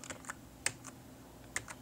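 Computer keyboard keys are tapped to control player one in a Mugen fighting game. A handful of light, sparse clicks sit close and quiet over a soft background, with no speech.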